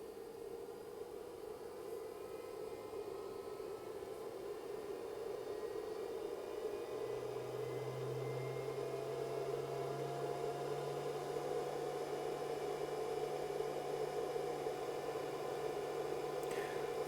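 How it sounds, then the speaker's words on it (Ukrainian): A LiFePO4 battery charger runs at full 40-amp output while its cooling fan spins up, giving a steady whirring hum that grows slightly louder with a low tonal drone, with no voices. "запускається кулер потужніше"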